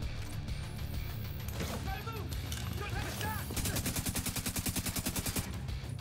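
Gunfire in the shooter Tom Clancy's The Division 2: scattered shots and impacts under talk, then a loud sustained automatic burst with evenly spaced rapid reports lasting about two seconds.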